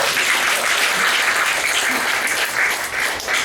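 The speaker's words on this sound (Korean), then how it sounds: "한번 우리 하나님께 박수 한번 드리고" A church congregation at a mission gathering claps together in a full, steady roar of applause that holds at a constant loud level for several seconds.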